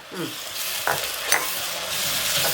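Crushed ginger and garlic hit reused hot oil for a Kerala dried prawn pickle and sizzle loudly and steadily, with a couple of brief clattering stirs, up close and with no talking.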